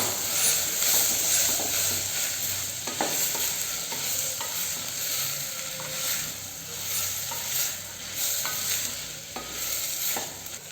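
Beans, carrot and potato stir-frying in a pan, a continuous close sizzle and hiss with occasional scraping and clinking of a spoon, no talking.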